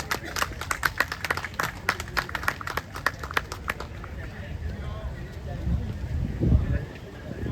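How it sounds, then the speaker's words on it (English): An audience claps in applause at a memorial ceremony, a dense burst of many hands that fades after a few seconds into crowd murmur and shuffling. "A big applause."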